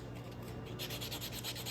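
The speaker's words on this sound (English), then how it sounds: "You just buff them, you know, get them ready for the acrylic" Fingernails being buffed to prep them for acrylic application, a soft rhythmic rubbing that turns into quicker, brighter strokes partway through, close and fairly quiet with no talking.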